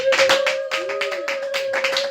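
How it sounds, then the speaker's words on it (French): A church congregation applauds together, steady broadband clapping filling the room alongside a sustained organ-like tone, continuous and fairly loud with brief pauses. "Nous continuons toujours à acclamer pour la gloire de Dieu"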